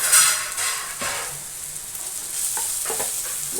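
Breaded cutlets sizzle in a little oil in a pan, a steady close crackle with brief stirring scrapes and no voices.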